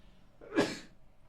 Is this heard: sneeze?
yes